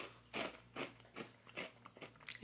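Honey Nut Cheerios cereal is bitten and crunched close up in repeated sharp, crackly chews, each crunch clear and distinct with no talking.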